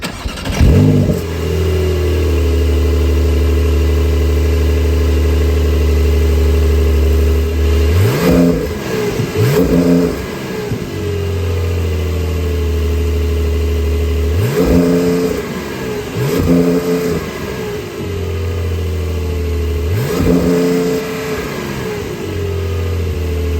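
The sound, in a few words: 2025 Porsche 911 Carrera 3-liter twin-turbo six engine revving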